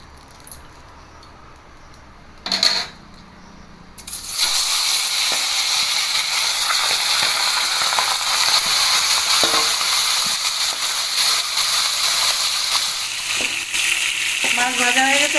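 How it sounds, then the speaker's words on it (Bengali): Tilapia fish fry in hot oil in a wok. After a quiet start and one brief clatter, a loud, dense sizzle begins and continues without a break. A few faint scrapes can be heard near the end. "আর মাছগুলোকে ভেজে নেব"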